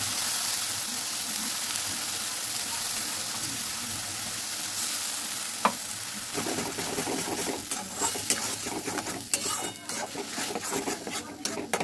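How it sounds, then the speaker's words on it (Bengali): Carrot paste stirred and fried in warm ghee for a soft carrot sweet, giving a steady close sizzle with scraping and clinking of a spoon against the pan that grows busier toward the end. "ঘিটা হালকা গরম হলে আমি পেস্টটাকে এর মধ্যে দিয়ে দেবো, দিয়ে নাড়িয়ে চাড়িয়ে শুকিয়ে নেব"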